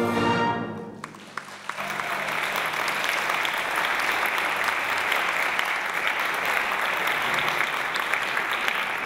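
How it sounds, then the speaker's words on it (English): Audience applause for a show band director at a Disney-themed band concert, a dense sustained burst of clapping that swells after a brief fading musical note and continues steadily to the end. "Let's give him a round of applause."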